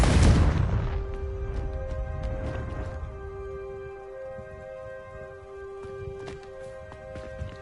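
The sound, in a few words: Bombarda and Confringo explosion spells in Hogwarts Legacy video game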